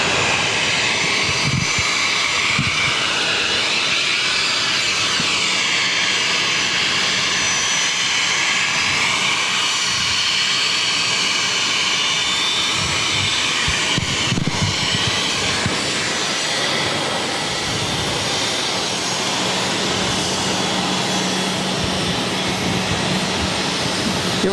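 A jet airliner taking off from runway 22 right at Boston Logan airport, a loud continuous engine roar with broad rushing noise throughout, heard from nearby.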